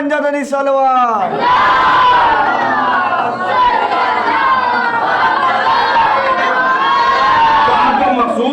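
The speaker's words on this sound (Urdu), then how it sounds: "بلند نعرے پنجابی سلوات" Crowd at a religious gathering in a Lucknow madrasa chants Punjabi-style salawat at full volume; a lone voice leads the opening phrase, then many voices roar in unison in long, sustained waves.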